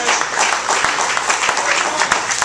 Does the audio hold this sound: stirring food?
no